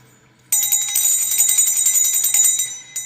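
A bright metallic bell rings loud and close, starting abruptly and sustaining a shimmering, pulsing ring for over two seconds before stopping, with no talk over it.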